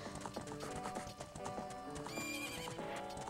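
A horse in Zelda Ocarina of Time gives a loud whinny over quick clip-clop hoofbeats, close and clear against game ambience.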